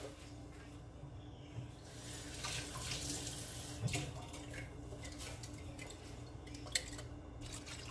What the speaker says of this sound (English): Just rinse out your can.